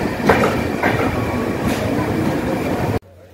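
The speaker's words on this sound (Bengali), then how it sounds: "ট্রেন কিন্তু যথাসময়ে আমাদের স্টেশনে পৌঁছে দিল।" A passenger train on the Sealdah to Siliguri route rumbles along the rails, heard from inside as a loud, continuous roar with rhythmic clacks of the wheels, then cuts off abruptly.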